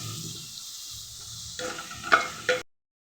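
Ingredients for a potato and green peas curry being sautéed in a pan, a soft steady sizzle with a few scraping stirs of a spoon near the end before it cuts off.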